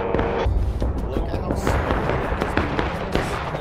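Cannon fire and musketry in the Civil War multiplayer game War of Rights: a dense barrage of booms and sharp cracks, some near and some distant, with voices talking over it.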